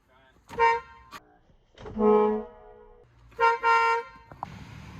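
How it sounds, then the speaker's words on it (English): A small aftermarket horn on a military truck honks three times in short, bright blasts, the middle one longest, with quiet pauses between and a faint click at the end. "I do have a little horn to install because I have no horn right now"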